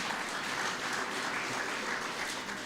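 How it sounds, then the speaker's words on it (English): An audience at a felicitation ceremony applauds steadily, a dense wash of clapping that stays loud and even throughout with no voices. "Give our ancestors a big round of applause."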